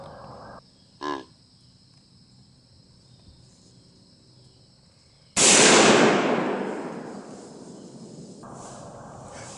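A single loud gunshot cracks out during a deer hunt for a buck in North Carolina woods, its echo decaying over several seconds, preceded by a quiet grunt call amid steady insect buzz.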